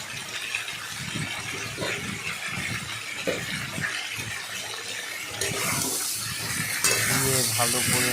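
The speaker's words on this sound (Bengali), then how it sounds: "দিয়ে ভালো করে নাড়াচাড়া করলাম" Curry seasoned with coriander powder is stirred in a pan, with scraping and wet sloshing over a sizzling hiss, the strokes irregular and growing slightly louder near the end.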